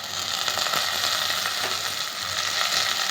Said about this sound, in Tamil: சின்ன வெங்காயமும் பெரிய வெங்காயமும் சேர்த்து நல்லா கோல்டன் ப்ரௌன் கலரில் வறுத்துக்கணும்